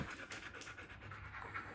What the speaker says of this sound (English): Sorry if you hear the dogs in the background.